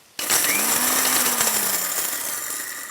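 An electric spice grinder whirs loudly and harshly as it coarsely grinds spices, starting abruptly and holding a steady grinding roar for a few seconds.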